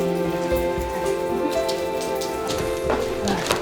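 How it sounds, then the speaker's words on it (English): Steady rain falls and patters on surfaces, a dense continuous wash of drops at close range with no voices. "I love that it's actually raining."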